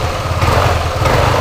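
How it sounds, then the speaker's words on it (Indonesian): Yamaha Aerox scooter engine revving hard under throttle, a steady buzzing drone that swells and pulses slightly throughout, close and loud with no voices. "Nah sekarang kita geber."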